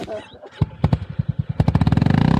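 A 2022 Yezdi Scrambler motorcycle starts up, sputtering in uneven bursts before its engine quickly settles into a fast, steady, loud idle up close.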